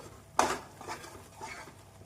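A spoon clinks and scrapes in a pan while Mysore Pak mixture is stirred with oil over high heat, with a sharp knock followed by softer scraping strokes, fairly quiet and without talk.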